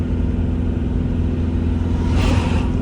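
A 1.9-litre diesel car engine labours up a hill, making a steady, loud low rumble from inside the vehicle that swells slightly near the end.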